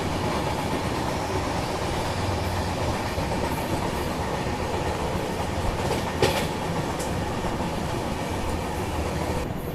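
A Duronto Express runs over the Beas river bridge, its steady rumbling clatter heard from inside the coach, continuous and loud with a brief metallic squeal midway.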